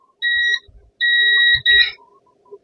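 A multimeter on continuity test gives clear, steady electronic beeps while circuit parts on a board are probed: two long tones and a shorter one, loud and close, with faint handling clicks and no speech.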